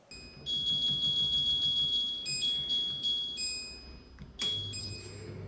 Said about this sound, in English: I checked with Tower and they confirmed the beeps can't be disabled